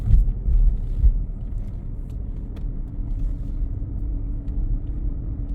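A Mercedes-Benz car with a 7G-Tronic 722.9 automatic transmission out on a test drive, its low engine and road rumble steady and smooth from inside the cabin, with no voices.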